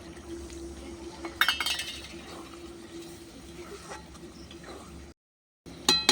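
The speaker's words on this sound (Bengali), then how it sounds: "তেল ছেড়ে গেছে। অল্প করে পানি দেবো।" A little water is poured into beef tripe frying with spices in a pan on a clay stove, giving a soft steady sizzle with a brief burst of clinking and bubbling, then a short gap and a final clatter.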